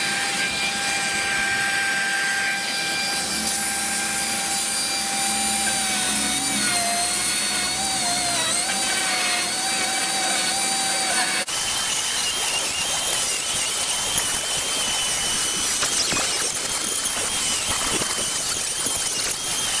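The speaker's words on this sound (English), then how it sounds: "I'm cutting this corner down right here, I don't have to worry about all that resin and fiberglass blowing everywhere" A power tool grinding down a resin and fiberglass corner of a 1973 Electra center console, a loud continuous high whine with shifting pitch, steady throughout and running without speech.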